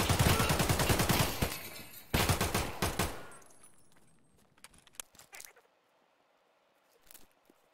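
Shotgun blasts from the game Escape from Tarkov land as a loud run of heavy reports that fade out, followed by a few fainter scattered shots and clicks.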